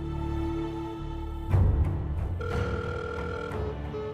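A telephone rings on an unanswered call, a steady electronic ringing tone in repeated bursts with a brief thump partway through, heard close and alone.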